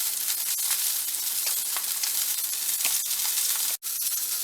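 A salmon fillet pan-sears with a steady, bright crackling sizzle of hot oil, close and continuous with small pops throughout. Near the end there is a brief break, like a tiny gap in the sound.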